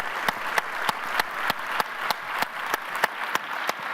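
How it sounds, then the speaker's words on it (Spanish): An audience gives steady applause after a keynote speech by José Sarukhan, an even patter of many hands with regular sharper claps running through, fairly close and continuous. "Despidamos con un fuerte aplauso a José Sarukhan"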